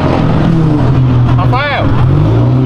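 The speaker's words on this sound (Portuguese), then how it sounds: "Olha o Fuscão aí, ó." A Volkswagen Beetle drives past on a street outside a charity event, its engine a steady low rumble with a rising and falling pass-by sweep midway, over other traffic noise and nearby voices.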